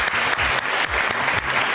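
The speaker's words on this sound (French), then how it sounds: "on applaudit très fort le fiancé de Laisse Live" An audience on a French TV talent show claps loudly for a contestant's fiancé, a thick continuous burst of applause with slight surges.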